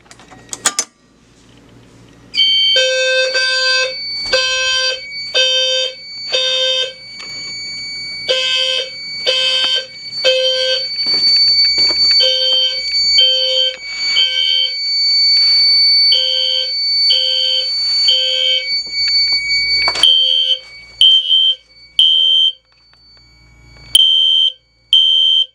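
An FCI MS2 fire alarm system sounds a low frequency sounder heard through a vent, giving loud, steady repeating bursts of tonal horn pulses in a regular rhythm, with a brief pause and a few final sharp bursts near the end.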